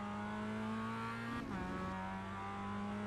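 Mazda MX-5 engine in the iRacing sim on the Okayama Short circuit, a steady loud drone that climbs in pitch under acceleration, dips briefly midway as through a shift, then keeps pulling, with no talk.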